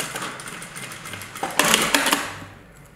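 A sewing machine stitching a fabric tool roll, its needle running in a fast, steady mechanical chatter that briefly grows louder before easing off and stopping.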